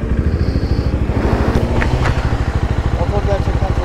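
A Bajaj Dominar 250 motorcycle engine runs steadily with a loud, low rumbling pulse throughout, ridden in traffic, with a voice talking over it.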